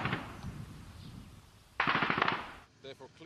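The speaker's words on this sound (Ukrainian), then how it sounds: "ворог веде провокаційний вогонь з кулемета" Machine gun fire during a shelling incident in eastern Ukraine: a loud burst of rapid rattling shots, then short sharp gunshots, following a quieter stretch with some voice beneath.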